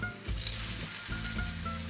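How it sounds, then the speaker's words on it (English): Food drops into hot oil in a pan over medium heat, giving a close, bright sizzle and crackle that holds steadily through the brief moment. "You should hear a little sizzle when they drop in there"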